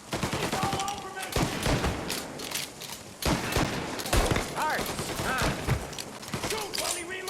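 Sustained firefight in the video game Mafia Definitive Edition, with repeated bursts of rapid gunshots separated by brief pauses, loud and close, while voices shout over the shooting.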